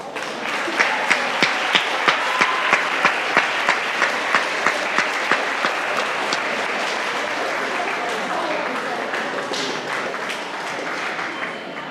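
At a school senior presentation, an audience claps in a fairly even rhythm at first, then the claps blend into sustained applause from a roomful of people.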